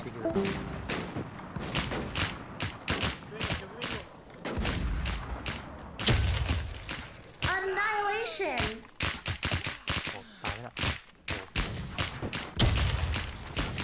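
Rapid gunfire in the online survival game RedDeadZ, dense bursts of shots cracking loudly and repeatedly throughout, with players talking excitedly underneath.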